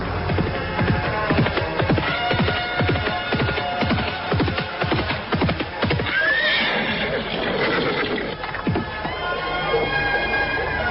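A horse in an Indonesian radio drama trots with rhythmic clip-clop hooves, then lets out a loud, shrill whinny before the hoofbeats continue, all up close and dense in the mix.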